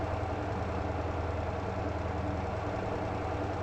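A vehicle engine in the game MotorTown labours up a steep hill, a steady low droning rumble held at constant loudness throughout, with no talking.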